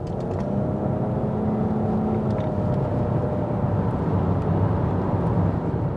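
Nissan Qashqai e-Power at highway speed, a steady, moderately loud broadband cabin drone of road and wind noise with a low hum beneath, even throughout with no talking.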